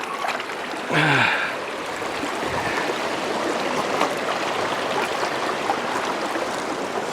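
A mountain creek, the West Fork, rushes and burbles steadily nearby along a trail through a burned area, a continuous broad wash of flowing water with a brief louder rustle near the start.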